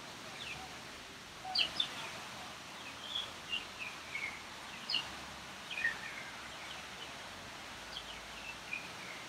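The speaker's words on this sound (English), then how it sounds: "All the birds are singing." Small birds chirp in scattered, brief bursts at moderate distance over a soft, steady hiss, with a few louder calls standing out among fainter ones.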